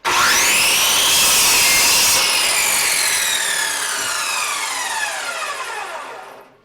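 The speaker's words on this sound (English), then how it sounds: "I'm going to start by making this cut on the miter saw" Miter saw slicing through a wood board, a loud whining buzz as the blade spins up and bites, holding steady, then winding down with a falling tone as the cut finishes.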